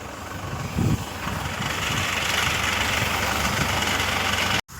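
A new tractor's steady, low engine idles close by in a field during pesticide spraying, a continuous rumbling drone, unbroken for several seconds until it briefly cuts out at the very end.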